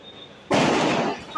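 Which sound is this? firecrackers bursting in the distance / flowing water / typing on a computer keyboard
firecrackers bursting in the distance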